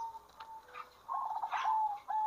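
Zebra dove (perkutut) in a breeding cage giving soft, faint cooing calls, a few short phrases repeated with a clear rhythmic pattern in a quiet setting.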